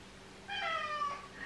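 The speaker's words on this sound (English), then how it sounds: "So if you hear him meowing in the background, that is definitely him." Indoor house cat giving a single drawn-out meow, close and clear, rising then falling over about half a second against quiet room hum.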